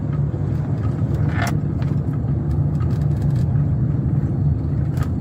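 Cabin sound inside a 2015 Honda Pilot on a test drive: a steady low road and engine rumble fills the clip, with a few faint rattles and clicks over it.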